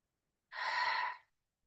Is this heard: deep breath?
yes